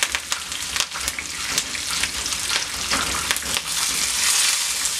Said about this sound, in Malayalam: അതിലേക്ക് 2 ഉള്ളി, 2-3 വറ്റൽമുളക്, അല്പം കറിവേപ്പില ഇവിടെ ചേർത്ത് കൊടുക്കുക.